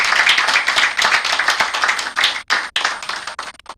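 Audience at a corporate sustainability report launch clapping together: loud, dense applause that swells, then thins out near the end.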